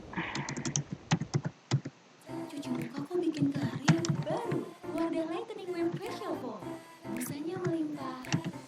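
Typing on a computer keyboard while writing C++ code, with clicky keystrokes in a quick burst at the start and a slower, halting rhythm later, heard under steady talk.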